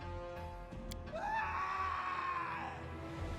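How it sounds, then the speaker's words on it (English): A single echoing scream from a hallway in the Pathfinder: Kingmaker video game rises sharply and holds for about a second and a half, heard moderately far and reverberant over a quiet ambient game backdrop. "a scream echoes from the hallway"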